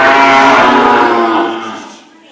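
A Khillar bullock moos loudly and close, one long harmonic bellow that holds steady then fades away near the end.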